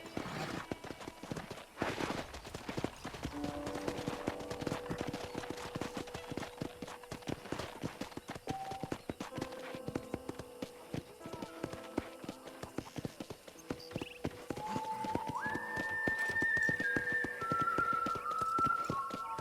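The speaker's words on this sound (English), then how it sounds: "let's see if you can still ride a horse" Hooves clop in a steady rhythm as a horse is ridden along in the video game Red Dead Redemption, with a faint whinny and a rising whistling tone near the end.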